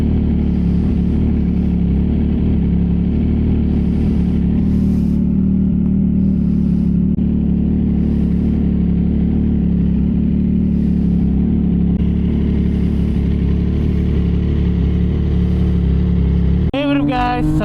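A 2025 CFMOTO 675 NK motorcycle engine runs loud and close at a steady, rumbling idle with mild pitch swells, then a sharp rev-up bursts out near the end.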